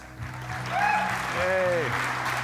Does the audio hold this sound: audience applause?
yes